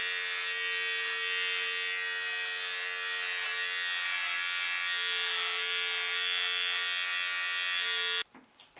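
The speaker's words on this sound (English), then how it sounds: "with your clippers, take the guard off" Electric beard clippers running with the guard off, a loud, steady close buzz that holds for about eight seconds before cutting out, followed by a few faint knocks.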